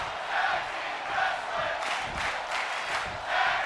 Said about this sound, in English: As the crowd is on their feet, yelling for tag team wrestling